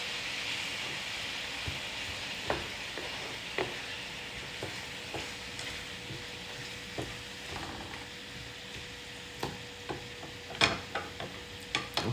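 Food sizzles and fries in a pan with a steady broadband hiss, punctuated by occasional clicks and scrapes of stirring, fairly quiet and with no talk.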